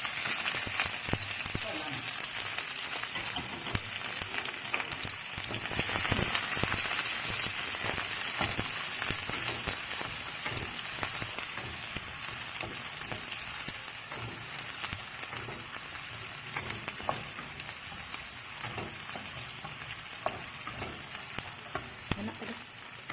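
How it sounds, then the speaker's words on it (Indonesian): Shallots sautéing in hot oil for a soy-sauce beef ball dish give a steady, close sizzle and crackle throughout, with occasional stirring clinks and a brief voice in the background. "kita tumis bawang merah, masukin"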